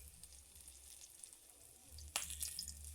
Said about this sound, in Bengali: এইটা ভেজে নিই